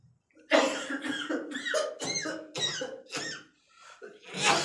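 A performed cough, a run of six or seven sharp, voiced coughs in quick succession, close and loud, followed by a softer one and a final harsh burst.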